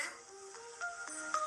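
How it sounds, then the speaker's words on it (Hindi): A mobile phone's ringtone plays a short melodic run of tones, faint and clean, with no voices over it. "अरे मेरा फोन आ रहा है जरा"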